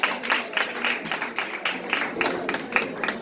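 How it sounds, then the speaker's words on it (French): Scattered clapping from guests at a graduation ceremony, honoring a graduate; steady, moderately loud hand claps with an irregular rhythm and no speech over it. "On l'applaudit s'il vous plaît, les invités de Malaika."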